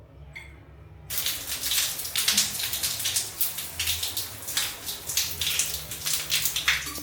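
Shower water runs with a continuous hiss and spatter in a hotel bathroom in Cartagena, Colombia, starting abruptly after a moment and continuing, with a brief voice speaking.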